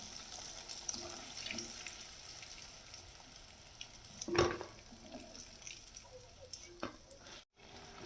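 Crispy chicken pieces deep fry in a pan of hot oil, a soft continuous crackling sizzle with one louder burst of spatter midway, faint and steady throughout.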